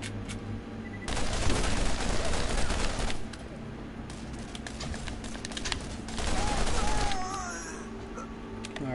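Shotgun blasts and other gunfire from the video game Borderlands, a dense run of loud shots and bursts with a steady game background underneath.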